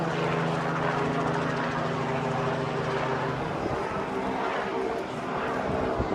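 A helicopter offering rides at Downtown Disney drones steadily with a throbbing rotor hum, fairly close, while people talk over it.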